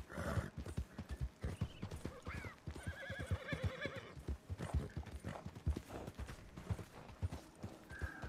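Horse hooves clip-clopping in a steady rhythm with a loud whinny midway, from a horse in the video game Red Dead Redemption 2, close and continuous over a game soundscape.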